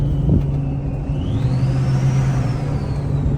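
A Ford 6.0 Powerstroke diesel truck out on a drive, with a steady low engine drone and road rumble from inside the cab and a faint whine that rises and falls.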